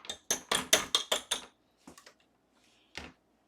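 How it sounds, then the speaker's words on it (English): Frozen green tea wax and coconut butter being smashed loose from the sides of a container: a rapid run of about eight sharp, close knocks, then a brief pause and three more isolated hits. "I'm just going to smash it in here just a little bit to loosen the sides."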